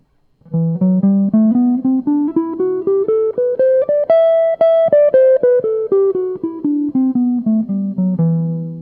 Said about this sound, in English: The 6th mode is important, the Aeolian Mode